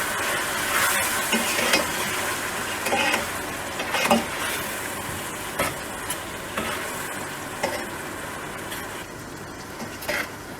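Ginger, garlic and green chili paste sizzles with tomatoes in a hot pan, a continuous close frying hiss broken by periodic scrapes and clinks of a stirring spoon.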